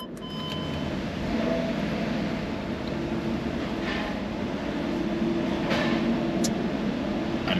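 Inside a train heading to France, a steady low rumble and rolling hum run throughout, with faint rattles and squeaks on top and no talking.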